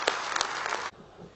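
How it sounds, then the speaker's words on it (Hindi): An audience at a Hindi poetry gathering bursts into dense, loud applause for the poet, which cuts off abruptly after under a second and leaves a quiet murmur. "दोनों हाथ उठाकर जोरदार तालियां बजाकर इसका स्वागत करें"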